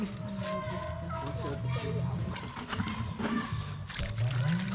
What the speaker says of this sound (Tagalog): Bali titimplahin ko muna sa tubig.